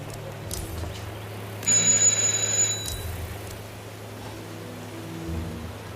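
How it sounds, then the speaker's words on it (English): A single electronic doorbell chime in the video game Hitman 3 rings for about a second over a steady low hum, then fades back into quiet background. "Just ring the doorbell."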